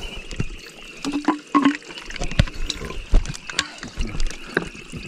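Water being collected from a mountain stream on the Tampayan–Olango trail of Mt. Guiting-Guiting: close splashing and trickling with scattered clinks and knocks, fairly soft throughout.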